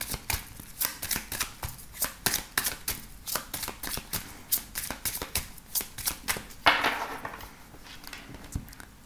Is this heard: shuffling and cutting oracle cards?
yes